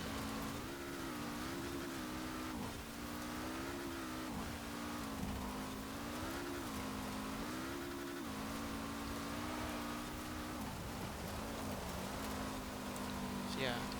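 A Lego Speed Champions car with an upgraded engine drives in Forza Horizon 4, its engine holding a steady, wavering drone with small rises and dips in pitch over continuous road noise, fairly quiet throughout.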